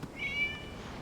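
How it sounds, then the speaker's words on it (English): A single short cat meow in the Genshin Impact video game, one clear drawn-out call heard alone against a quiet background. "It was just a cat."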